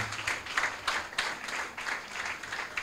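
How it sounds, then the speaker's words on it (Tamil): A congregation at a church anniversary and dedication service claps steadily in a soft, roomy wash of applause with gentle rhythmic swells, heard from some distance. "கைத்தட்டிகிட்டே இருங்களா கொஞ்ச நேரம்"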